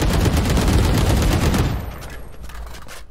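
Sustained loud automatic gunfire sprayed into a wall in the video game Valorant, a dense rattling stream that cuts off partway, leaving a quieter tail with a few scattered shots.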